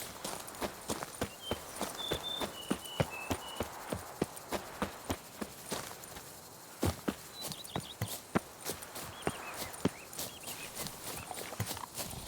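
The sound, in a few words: horse Roach running in The Witcher 3 video game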